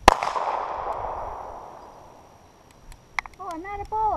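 A newly bought handgun fires a single sharp shot close by at the very start, its ringing tail fading over a couple of seconds before people start talking.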